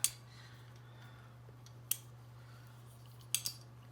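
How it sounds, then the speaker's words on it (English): A metal garlic press squeezing garlic gives a few sharp, quiet metallic clicks at irregular moments, two of them close together near the end, over a low steady hum. "This is a garlic press, and it's an easy way to get a taste of garlic into something"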